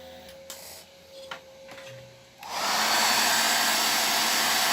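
A hair dryer switches on partway through and runs at a steady, loud whoosh, drying a light coat of paint or finish, after a few soft clicks and taps in a quiet room.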